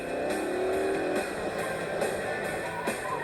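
A chase car drives on with tacks stuck in its tyres, its engine droning loud and close with a rhythmic ticking tap repeating about every second, with no talking.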